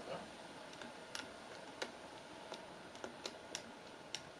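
Quiet typing on a Mac computer keyboard: sparse, irregular key clicks with no talking.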